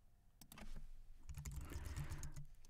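Rapid typing on a computer keyboard as a username and password are entered, a steady run of close, crisp key clicks with no talking.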